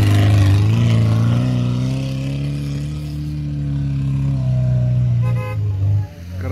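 A Lada Niva's exhaust gives a steady, loud, low droning note up close, which dips and trails off near the end.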